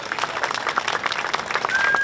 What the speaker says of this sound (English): A round of applause, honestly, to the artists.